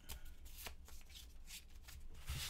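Playing cards are shuffled close by in quick riffling bursts, a crisp flutter repeating several times with brief pauses.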